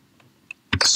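Short bursts of typing on a computer keyboard, a couple of faint isolated key clicks followed by a quick, louder cluster of keystrokes up close.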